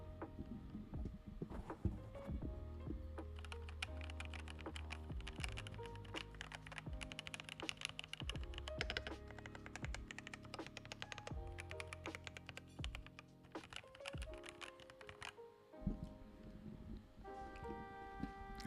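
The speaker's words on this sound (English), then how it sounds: "that keyboard sounds out of the box" Typing on an IQUNIX ZX75 mechanical keyboard in stock condition, a dense run of close, crisp key clacks with a steady, busy rhythm and occasional louder strikes, with no voices.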